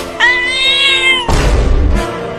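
Cartoon cat meowing in a comedy animation, one long loud drawn-out meow followed by a shorter harsher cry and a brief second call, with no talking.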